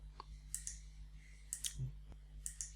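A computer mouse clicking in three sparse clusters of light, crisp double clicks over a faint electrical hum, close and quiet.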